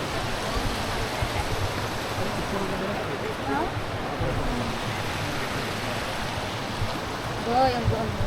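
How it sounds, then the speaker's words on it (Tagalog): Waterfalls at Plitvice Lakes National Park in Croatia pour with a steady broadband rush of falling water, while voices chat faintly over it and a short whistle-like tone rises near the end. "Nandito na kami sa napakagandang waterfalls nila dito."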